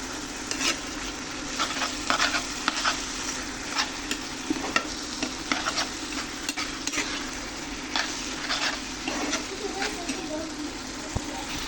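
Dried kholisha fish with cumin frying in a pan, stirred with a utensil: a steady close sizzle with repeated scraping and clinking strokes throughout, a voice speaking briefly over the cooking.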